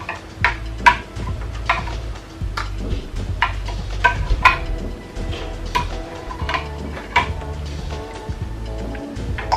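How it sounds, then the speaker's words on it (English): A drink is mixed in a cup, with a spoon clinking and scraping against the sides in quick, irregular taps that sound close and clear, and no talking. "mix everything together"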